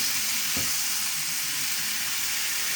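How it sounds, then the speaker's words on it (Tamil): Beaten egg poured into frying rice and stirred, a steady loud hiss of sizzling with one brief thud as it goes in, no voice. "இதில் இப்போது உடைச்ச முட்டையும் எடுத்து சேர்த்துக்கணும். அதையும் ஊற்றி நல்லா கிண்டணும்."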